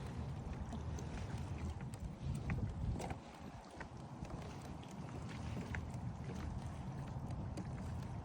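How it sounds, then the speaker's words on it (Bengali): Strong wind blows steadily through an outdoor park with old trees beside a river, a loud, continuous rushing and buffeting that briefly swells and then eases, with no one speaking. "অনেক বেশি বাতাস, শুধু এই গাছ না"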